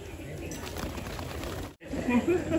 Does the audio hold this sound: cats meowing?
no